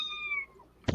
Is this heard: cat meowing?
yes